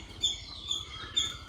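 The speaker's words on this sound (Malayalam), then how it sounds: "കിളികളുടെ ശബ്ദം" Small birds chirp in a quiet outdoor setting, three short, bright calls spaced about half a second apart over a soft background hum.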